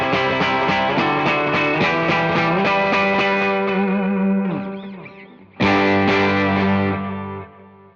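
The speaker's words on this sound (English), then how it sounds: "I'm gonna turn on my delay and like some short reverb" Sustained electric guitar chords through an ACS1 with clean tone, delay repeats and a short reverb tail, a brief dip, then a fresh strummed chord that fades away.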